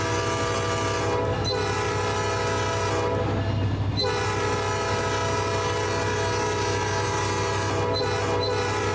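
A Norfolk Southern locomotive horn sounds in a train simulator game, sustained and loud over the steady rumble of the engine and rolling cars, with brief breaks between blasts.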